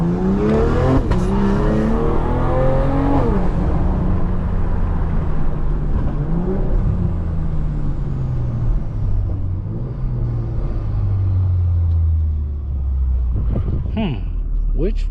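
A BMW M340i with a catless downpipe accelerating on a road, its loud, raspy exhaust rising through gears with rev climbs, shift dips and a deep rumbling drone throughout.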